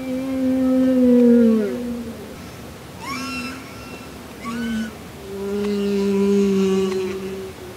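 Sperm whale sound emissions appear as long, loud, wavering tonal calls that rise and fall in several drawn-out phrases, alone without speech.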